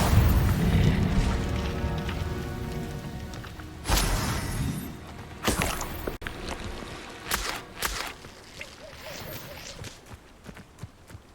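A fire spell is cast in the Hogwarts Legacy game, with booming whooshes and bursts at about four, five and a half and eight seconds over a dense game soundtrack and ambience.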